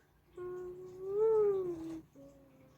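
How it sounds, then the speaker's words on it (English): A house cat lets out a long, drawn-out yowling meow that rises and then falls, followed by a shorter second cry, close and clear against a quiet background. "I heard a cat."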